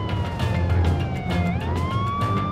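A police car siren wails during a high-speed chase in Johannesburg, a steady rising and falling tone over the rumble of a moving vehicle, loud and close throughout.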